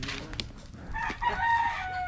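A fighting rooster crowing in the rural Philippines, a loud drawn-out cock-a-doodle-doo rising out of a busy outdoor background with faint clucking, close by and without speech.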